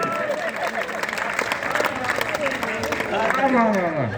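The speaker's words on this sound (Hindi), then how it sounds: "एक बार अपने लिए ताली बजाइए।" An audience at a Hindi comic poetry recital claps steadily throughout, and a voice talks over the applause the whole time.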